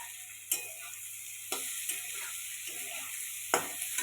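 Cashew nuts fry in a pan with a steady, close sizzle, broken by a few sharp clicks and scrapes of stirring, and nobody speaks.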